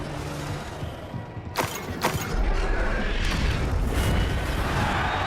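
A Confringo blasting spell in Hogwarts Legacy goes off in a sharp double crack, then a loud, sustained rumbling burst, all within busy game combat noise.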